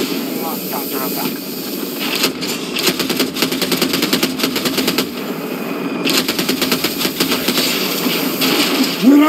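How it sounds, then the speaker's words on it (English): Sustained machine gun fire in a Battlefield video game: dense, rapid, loud bursts rattle almost without pause over a heavy wash of battle noise, with voices faintly mixed in. "We're under fire!"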